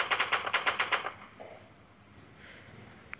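A green pistol in the browser game Giant.io fires a quick burst of about nine sharp, evenly spaced cracks, close and loud, then gives way to a faint quiet background.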